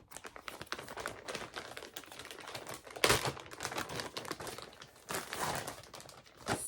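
A small plastic bag holding boy-shorts underwear is handled up close, giving steady crinkling and crackling rustles throughout, with a few sharper crunches and no talking.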